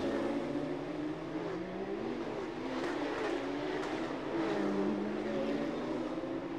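Porsche Carrera Cup race cars run qualifying laps on a street circuit in Chonburi, Thailand, tires warming: a steady, continuous engine drone with rising and falling pitch sweeps as cars pass, loud throughout with no talk.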